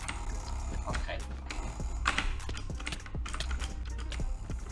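Rapid computer mouse drag clicking at over 40 clicks per second, a dense close rattle of tiny clicks running throughout with bursts of faster clatter, background voices faintly present.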